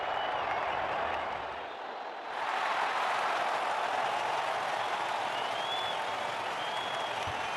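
A stadium crowd in the video game WCC3 cricket applauds a six during an India versus South Africa one-day match, a broad wash of clapping that dips briefly and then swells and carries on.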